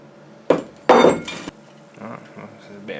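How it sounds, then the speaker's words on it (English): Metal gearbox parts for a homemade dump truck take a few sharp taps and clinks, two distinct strikes followed by lighter scraping and knocking, close and fairly loud. "There's a bit of tapping going on here."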